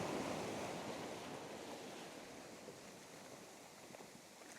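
Waves wash over rocks on a beach at sunrise with a soft, continuous hiss of surf and a little wind, faint and distant, slowly easing off, with no voices.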